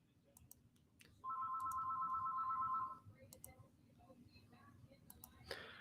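A telephone ringtone sounds as a single steady electronic tone for under two seconds, fairly loud and close, surrounded by scattered light clicks and taps, with brief talk nearby.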